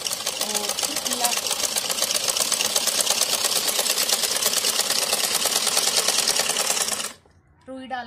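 A sewing machine runs in one steady, loud burst of fast stitching as it sews the two open sides of a homemade cushion cover, then stops abruptly near the end.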